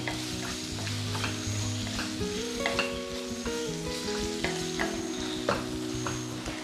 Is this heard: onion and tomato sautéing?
yes